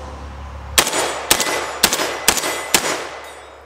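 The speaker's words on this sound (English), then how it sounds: "let's go ahead and fire this a few times" A gas-piston semi-automatic, magazine-fed shotgun fires five loud shots outdoors at a steady, slightly uneven pace, each sharp blast followed by a short decaying ring.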